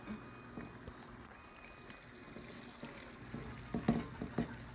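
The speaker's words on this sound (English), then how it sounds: "fill it up, maybe half a cup with water, and swish it around and pour it in" Water swished in a cup is poured into a lasagna pan, giving a faint, quiet trickle with a few soft splashes toward the end.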